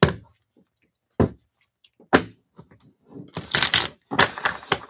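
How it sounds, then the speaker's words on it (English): Fragile tarot cards are handled and shuffled in sharp, separate snaps and riffles, close up, growing into denser bursts of shuffling toward the end, with no talk. "I'm not supposed to do those shuffles because I will bend these."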